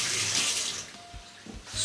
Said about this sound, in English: I'll take this out and give this a rinse.